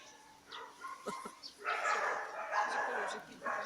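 Dog barking and yipping at a dog training centre in Mukachevo, several sharp barks and whimpers mixed with people talking nearby.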